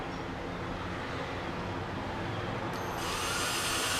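A steady, loud mechanical whir runs throughout, like a power drill working continuously, growing slightly brighter and harsher near the end.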